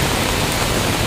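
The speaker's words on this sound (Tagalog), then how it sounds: "mababasa talaga tayo rito sa sobrang lakas ng ulan" Heavy rain pours down on a footbridge in Baclaran, a dense, steady roar of close downpour that fills the whole moment with no voices over it.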